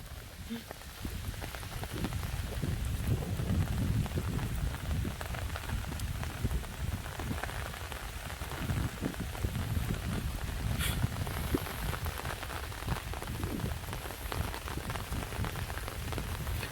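Steady, dense rain pours down on a surface, a continuous hiss and patter with no letup throughout.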